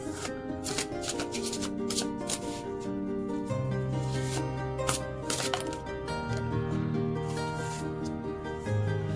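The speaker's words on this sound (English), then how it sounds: "I'm going to go ahead and start shuffling" A deck of tarot cards is shuffled by hand in repeated crisp riffles and soft sliding rubs over steady background music.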